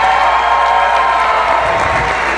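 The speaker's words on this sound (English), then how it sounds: "Give yourselves a round of applause." A loud wrestling-event crowd at Christmas Chaos 8 applauds and cheers, a dense continuous roar of clapping with shouts mixed in, close and unbroken.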